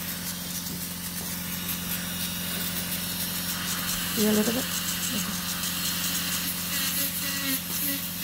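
An electric nail drill runs steadily during the trimming of a thick, curved ram's horn toenail, giving a constant mid-pitched hum and buzz, while someone speaks briefly over it.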